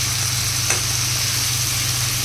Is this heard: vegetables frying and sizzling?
yes